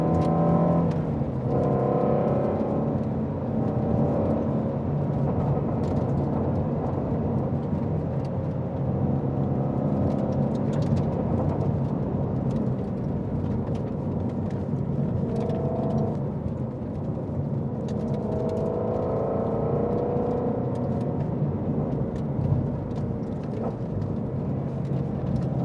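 A Ford Mustang Shelby GT350R drives along a road, its engine rumbling and rising and falling as it accelerates, heard steadily from inside the car over about 25 seconds with a few brief voices.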